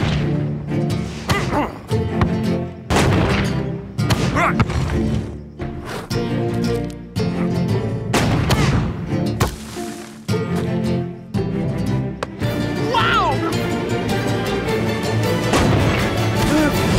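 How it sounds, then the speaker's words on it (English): Repeated heavy booms of cannon fire in the animated series Supa Strikas, loud and close, spaced a second or two apart amid a dense, noisy background. "Whoa, Tiger wasn't joking about the cannon."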